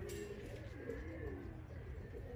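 A male pigeon coos in a soft, rolling, low call repeated a few times, faint against a steady low background rumble.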